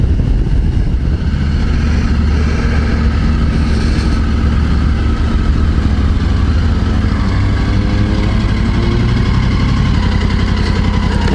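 2024 Triumph Tiger 900 GT Pro motorcycle engine running with a deep, steady rumble close by, its pitch shifting slightly as it idles and revs through the clip.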